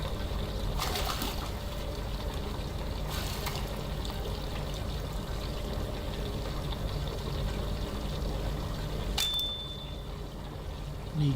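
A metal gun part is lowered into a hot bluing tank's water in the Gunsmith Simulator game, giving a steady, fairly loud pouring and trickling wash of liquid that runs the whole time, with a brief sharper splash near the end.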